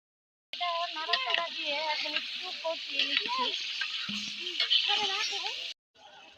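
Chicken pieces sizzling as they fry in spiced masala, a loud steady crackle that starts abruptly and runs under a person talking, then cuts off near the end.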